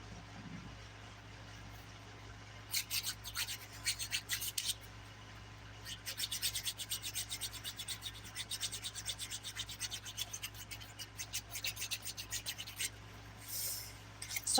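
Fingernails being filed around the cuticle with the 180 grit side of a nail file during a dip-nail manicure, giving quiet, close scratchy strokes in short bursts, then a quicker steady run of rapid rasps.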